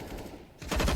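Rifle spray gunfire in Counter-Strike on the Dust 2 map, a brief quieter stretch followed by a loud, rapid burst of automatic shots.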